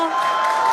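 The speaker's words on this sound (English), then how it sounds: "you can hear the crowd is very excited about it" Spectators cheer during a SpaceX Super Heavy rocket launch, a brief, steady wash of distant crowd noise with a thin constant tone running through it.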